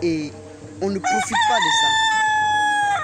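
A rooster crows loudly and close by in a long drawn-out call, with chickens nearby, while someone talks briefly over the start of it.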